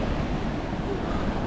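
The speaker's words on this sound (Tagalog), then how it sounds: "Malakas talaga yung alon dito guys." Rough ocean surf churns in a dense, steady roar with wind buffeting the microphone, no voices heard.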